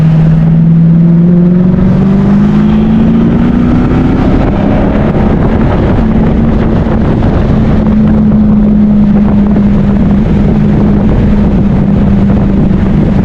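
A 2008 Mercedes W211 E63 engine drones loudly and steadily from close by, with its pitch climbing early on and then holding at a strong, even rev, along with some wind noise.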